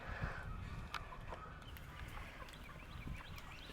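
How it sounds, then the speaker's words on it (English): Orpington hens clucking softly outdoors in a homestead yard near the coop, short low clucks repeating over steady background, fairly faint and with no talking. "That way over there is the Orpington hen."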